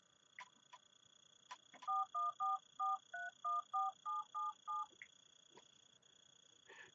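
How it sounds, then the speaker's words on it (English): An Aastra Mitel SIP phone keypad sends a quick run of about ten DTMF tones while dialing into a phone system, each beep short and evenly spaced over faint background hiss, with no talking. "So let me call into the system."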